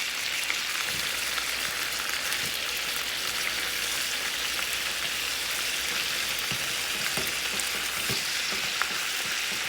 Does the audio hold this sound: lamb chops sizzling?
yes